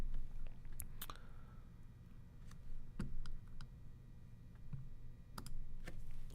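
Keys on a computer keyboard click in light, irregular taps, faint and close over a steady low background hum.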